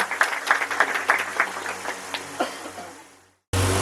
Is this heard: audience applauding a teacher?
yes